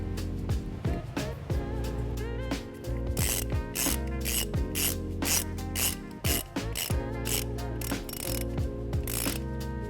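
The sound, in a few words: ratchet tightening nut onto positive stud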